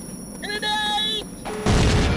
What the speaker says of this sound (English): Enemy cruiser opening fire!